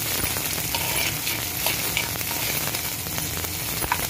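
Steady, close sizzling of a small amount of onion frying in hot oil as tempering for an okra stir-fry, with occasional light clicks of a spoon stirring the pan.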